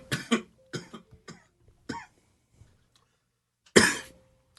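A person coughs several times in quick succession, then pauses, followed by one louder, harsher cough close to the microphone.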